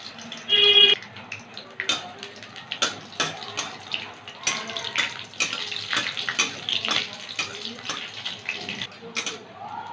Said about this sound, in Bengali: কড়াইতে সর্ষের তেল গরম হয়ে গেছে দুটো শুকনো লঙ্কা একটা তেজপাতা দুটো কাঁচা লঙ্কা একটু কালো জিরে দিচ্ছি